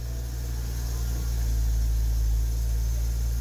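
A BMW engine, under diagnosis for a fuel supply fault, runs at a steady idle with a low continuous hum and even drone, fairly close and alone.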